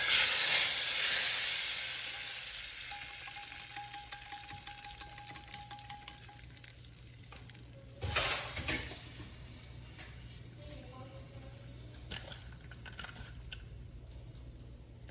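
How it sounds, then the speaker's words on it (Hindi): Hot tempering poured over fried chana dal with the stove switched off, a strong hiss that fades over several seconds, then a second sizzling burst and light stirring clatter, close, no talk. "चूल्हे को करते हैं बंद, तो डालते हैं इसकी दाल के ऊपर।"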